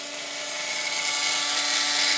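A CNC machine cuts UHMW plastic with a freshly sharpened bit, giving a steady, loud, high whine and hiss that holds unbroken throughout, with no talk.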